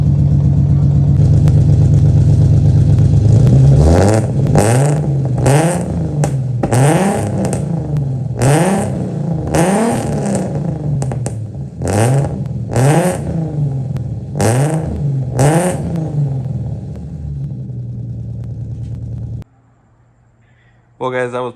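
A 1990-96 Nissan 300ZX engine runs in a garage while warming up after a misfire fix. It gives a steady near idle with a series of rhythmic revs and surges, settles, then cuts out near the end.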